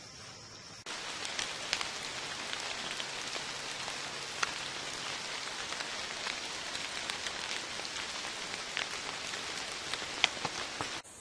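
Rain falls steadily on a wooded cedar ridge during a public-land deer hunt, a dense even patter with scattered louder drops that carries on without a break after a brief quieter start.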